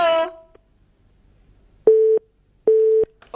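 Telephone busy tone left on the line after the other party hangs up: two steady beeps with a gap between them, clear and alone, following a brief voice at the start.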